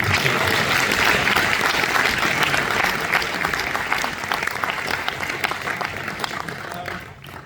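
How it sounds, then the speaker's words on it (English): Audience applause at a question-and-answer session for a Beatles-related film, steady thick clapping from a large crowd that gradually thins and fades toward the end. "So a round of applause to Ian as well"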